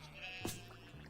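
Sheep in the Stardew Valley farming game gives a single short bleat midway, faint beneath a quiet steady background.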